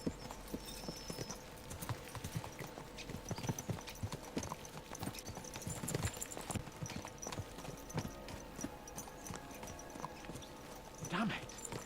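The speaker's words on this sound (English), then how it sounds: "Let's really spur these horses on, eh?" Horses' hooves clip-clop steadily at a riding pace in the medieval game Kingdom Come: Deliverance II, a continuous rhythmic beat of several horses under background game sound and occasional talk.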